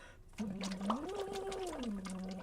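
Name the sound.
bubbles blown through a big straw during singing practice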